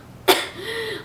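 A single sharp cough bursts out near the start, loud and close, followed by a faint lingering tone and quiet room noise.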